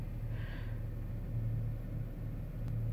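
A 2015 Chevy Camaro idles steadily with a low, even engine rumble, close and continuous, with no voices.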